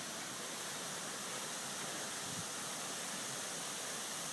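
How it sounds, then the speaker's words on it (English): Stormwater drain runoff at the Dana Point Waterfall pours in a steady, even, broadband rush of falling water, faint and continuous without a break. "I'm standing next to what we call the Dana Point Waterfall, which is a stormwater drain area"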